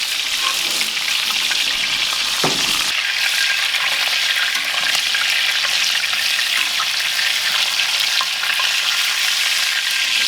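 Steak frying in a cast iron skillet with rosemary and garlic in clarified butter gives a loud, steady, close sizzle throughout, with one brief scrape or clunk near the start.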